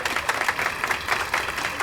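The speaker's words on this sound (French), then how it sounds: "Applaudissez-les bien fort, s'il vous plaît." An audience applauds improvisers, a steady patter of many hands clapping in a hall, moderately distant and continuous throughout the short burst with no talking.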